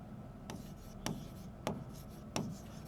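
A pen writes on paper in four quiet, evenly spaced scratching strokes, faint and close, with no voices.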